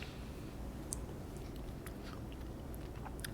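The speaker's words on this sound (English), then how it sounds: "chewing here" A person chews food with soft, moist crunches and little clicks, faint and close, over a quiet steady background.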